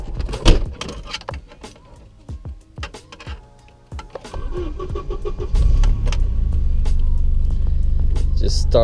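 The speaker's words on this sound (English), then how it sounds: "Just starts like it's never changed." A Volvo car with a head gasket repair cranks and its engine catches, settling into a steady idle after a few seconds of clunks and door noises close by.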